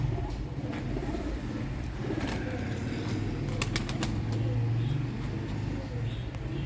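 Sialkoti rooftop pigeons in flight make a brief burst of sharp wing claps in the middle, set against steady outdoor background noise with voices and passing traffic.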